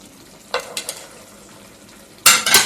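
Sliced pork frying in a pan after vinegar is added gives soft sizzling with a few stirring scrapes, ending in a loud burst of sizzle.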